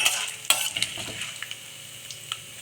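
Four cashew nuts fry in a little hot oil in a pan, a faint steady sizzle broken by soft clinks and scrapes of a spoon stirring them.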